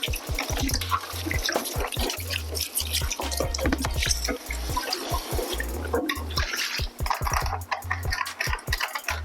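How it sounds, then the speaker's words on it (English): Water runs and splashes while gear is rinsed off after a first wash, a steady close spatter with a dense run of drips and small impacts throughout, no talking. "Now I'm going to go ahead and rinse it off."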